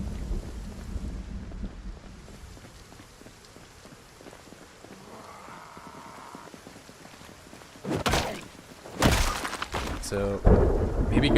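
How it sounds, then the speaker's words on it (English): Rolling thunder and rain from a storm in Project Zomboid, a steady wash of rain giving way to loud cracks and rumbles in the last few seconds. "I do have this thunder that won't go away that I have to yell over"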